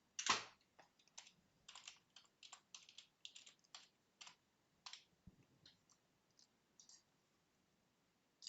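Fast, light keystrokes on a computer keyboard, close and soft, in an irregular run of single clicks and small clusters, with a sharper click at the start and quiet gaps toward the end.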